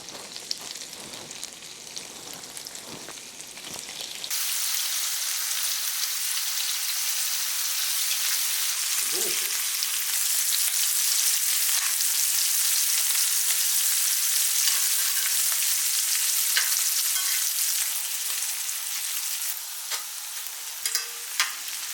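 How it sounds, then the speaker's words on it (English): Shrimp seasoned with all-purpose seasoning hit melted butter in a skillet and break into a loud, dense, steady sizzle that holds for about twenty seconds, close and without talk. "Once the butter is melted nicely, we're gonna go ahead and add our shrimp, season it with all-purpose seasoning"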